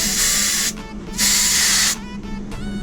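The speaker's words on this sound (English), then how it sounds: "Gonna purge my hose." Refrigerant hose being purged while a freezer is charged with Freon after a deep vacuum: sharp, close bursts of hissing gas. There are two longer blasts and a shorter one at the end, separated by brief pauses.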